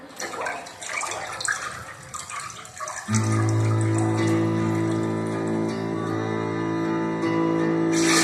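Water is poured from a bottle with a rushing, splashing sound for about three seconds, after which a louder sustained tonal sound takes over.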